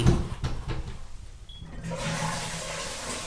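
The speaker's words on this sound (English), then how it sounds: "I just sat down and they decided to auto-flush that" An automatic vacuum toilet on a Cathay Pacific A350 flushes close by: a brief clunk, then a loud rushing, hissing whoosh that steadily continues.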